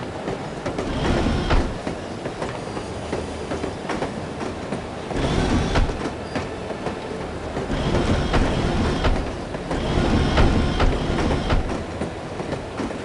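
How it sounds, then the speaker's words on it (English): A train rolling along rails in the video game The Operative: No One Lives Forever, a steady loud rumble with rhythmic clickety-clack wheel beats and occasional squeals, continuous throughout with no speech. "I love riding the train."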